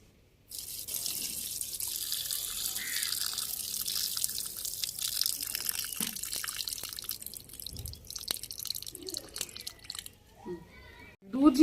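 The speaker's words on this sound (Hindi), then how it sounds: "चावलों का मैंने पानी उतार लिया" Water poured off boiled rice pours and splashes steadily for several seconds, a continuous hissing stream with a few drips and knocks, ending with a brief clatter.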